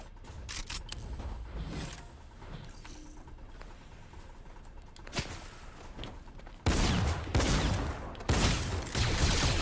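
Gunfire in the Fortnite video game, scattered sharp shots at first, then a loud close burst of rapid fire near the end.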